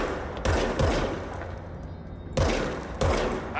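Rapid gunfire from the squirmy gun in the video game Control comes in two short, punchy bursts of several shots each, separated by a pause of background hum.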